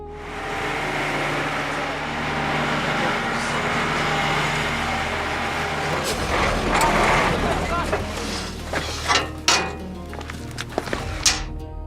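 A supply truck rolls into a remote Wakhan mountain village, its low engine drone steady at first, then joined by thumps, clatter and a bustle of activity as people gather nearby.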